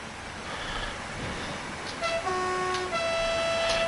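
In Train Sim World 6, a DB BR 147 locomotive's horn blares over a steady rumbling engine and track noise, sounding twice in longer tones near the end.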